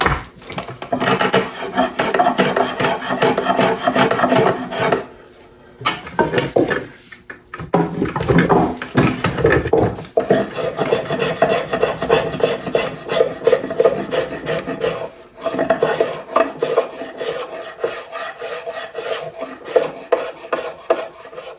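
Drawknife shaving a rived wooden axe handle along the grain, loud repeated rasping strokes in a steady back-and-forth rhythm, interrupted by short pauses between passes, close up and without speech.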